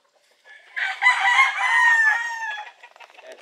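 A gamefowl rooster on a farm crows once, loud and close, a drawn-out cock-a-doodle-doo lasting about two seconds, followed by a few soft clucks.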